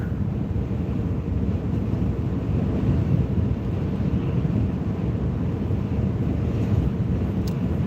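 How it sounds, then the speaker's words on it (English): Strong headwind gusts roar steadily into the microphone, a heavy low rumble of buffeting air lasting throughout with no voices. "we're getting some gusts right now, and it's like they're hitting us head on"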